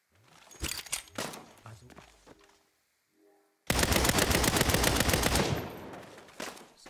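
Gunfire in the video game Saints Row: scattered sharp shots, a brief lull, then a sustained loud burst of rapid automatic fire that fades out, with a few more shots at the end.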